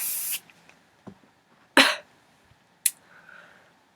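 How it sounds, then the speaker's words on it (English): Three short, sharp hissing bursts of hairspray sprayed onto hair, loud and close, separated by quiet pauses. "Slide your hand underneath and give it a spray."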